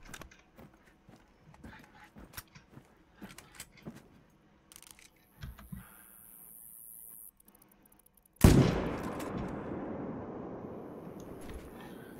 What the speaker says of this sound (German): Der Schuss war auch okay.